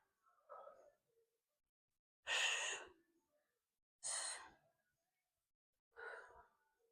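Four heavy breaths, in and out, during a dumbbell workout. They are close, quiet and spaced about every two seconds, each a short airy rush with silence between.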